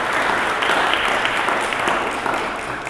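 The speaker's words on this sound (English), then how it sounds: "We should give a big hand to that, because that's the Manitoba way." A crowd at a Manitoba government event on immigration applauds, a steady loud wash of clapping that holds throughout and eases slightly toward the end.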